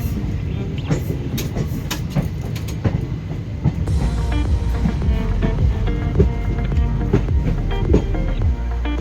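Kalka Mail (Netaji Express) train on the Howrah to Kalka route running on its tracks, a loud steady rumble with repeated clickety-clack wheel beats and rattling carriages throughout.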